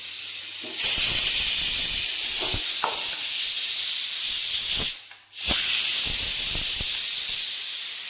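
Loud, continuous hissing of steam escaping a pressure cooker, briefly cutting out for a moment before resuming at full strength.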